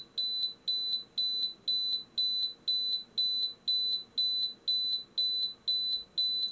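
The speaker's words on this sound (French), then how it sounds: "Là du coup elle continue à biper hein" A fire safety kit alarm for an xTool laser beeps in a steady, loud repeating pattern of short, shrill tones, roughly two per second, with no other sounds.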